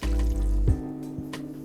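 Saved cooking water poured into a pan to mix with spices, a steady close liquid fill that cuts off after about two-thirds of a second, leaving a few faint drips.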